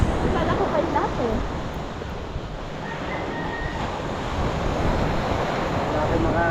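Ocean surf washes continuously along a shoreline, a steady rushing roar with heavy wind buffeting the microphone throughout and no clear pauses.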